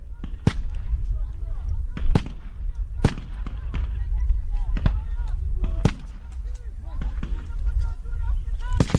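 Sharp gunshots from a Rwanda Defence Force (RDF) military combat demonstration crack out at irregular intervals, about eight loud reports over steady rumbling background noise and distant voices.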